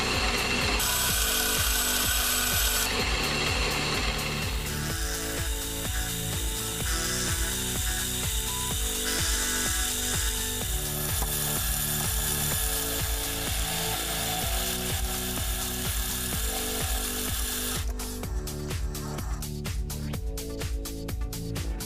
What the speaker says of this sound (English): I'm using the simple indexing plate of the dividing head that's just behind the chuck